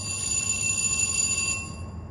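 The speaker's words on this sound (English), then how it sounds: "So I guess Hannah turned in the key and set off the alarm" A hostel alarm sounds steadily with a high electronic ringing tone, loud and continuous for most of the stretch, then cuts off near the end with no talk over it.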